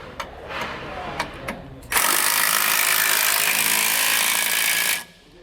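A power tool such as an impact driver runs a bolt up on a SumoSprings Rebel helper spring install on a 2020 Thor Wind, starting with a few short clicks, then a loud steady whir for about three seconds before stopping abruptly.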